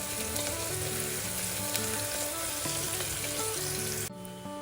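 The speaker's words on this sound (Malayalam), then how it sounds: "നല്ലോണം ഫ്രൈ ആക്കി കൊടുക്കാം" Small onions fry for beef vindaloo in a pan, giving a dense, steady sizzle close up with faint scraping now and then, before the noise drops sharply near the end.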